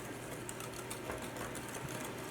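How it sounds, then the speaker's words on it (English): An electric hand mixer whirs steadily while smoothing lemon bar filling of lemon juice and flour, a continuous close motor buzz with a faint beater rattle and no speech. "I'll just get the hand mixer to smooth it out."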